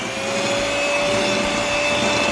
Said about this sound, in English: This is a new method of how to hold the mixer.